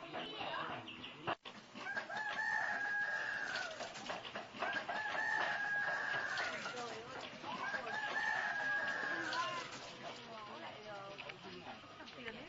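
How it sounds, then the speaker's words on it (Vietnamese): A rooster crows three times in long, drawn-out calls at midnight of the Hmong New Year, loud and fairly close over a steady bed of background voices and village noise. "đợi tiếng gà gáy báo hiệu một năm mới đã đến"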